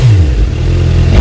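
Suzuki GSX 750 motorcycle engine revving through an aftermarket exhaust, a loud close blip whose pitch drops, holds at a throaty idle, then rises again.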